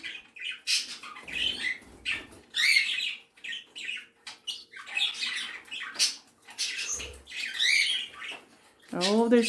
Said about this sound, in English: 3 budgies, a canary, 2 borks. All enjoying their bath time.